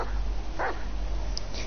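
A single short dog bark from the video game GTA rises once over a steady, noisy game backdrop, with a faint brief yip following later.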